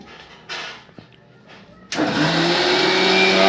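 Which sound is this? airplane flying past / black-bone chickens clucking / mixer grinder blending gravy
mixer grinder blending gravy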